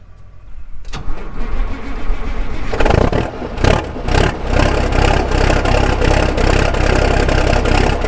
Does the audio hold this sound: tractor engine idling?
yes